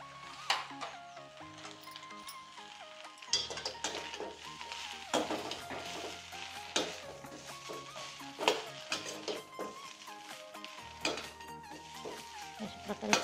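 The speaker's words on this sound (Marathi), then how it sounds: "अशा प्रकारे छान परतून घ्यायचं." A pav patties filling is stir-fried in a pan with garam masala and coriander. Irregular scraping and clinking strokes of a spoon against the pan sit over a light sizzle, close and fairly busy, with no talking.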